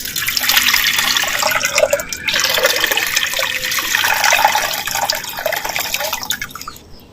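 Plain water poured into a clay pot while making country chicken rasam, a continuous splashing and trickling stream that runs for several seconds and tapers off at the end.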